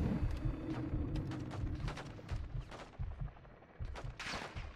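Airstrike gun run in Call of Duty: Modern Warfare II, with dense, rapid bursts of heavy gunfire and booming impacts rolling on for several seconds amid battle noise.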